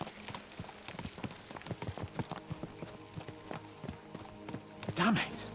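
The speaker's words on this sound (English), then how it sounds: "Let's really spur these horses on, eh?" Horses gallop in a medieval video game, Kingdom Come Deliverance 2: rapid, rhythmic clip-clop hoofbeats pound steadily, then a horse whinnies near the end, with a voice speaking over the hooves.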